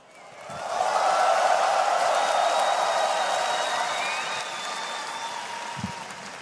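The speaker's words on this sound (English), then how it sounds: "I had to wait for the applause to stop there, Save." A large arena crowd at The International esports championship applauds, the clapping swelling quickly into a dense, loud roar with some cheering, holding steady, then gradually thinning toward the end.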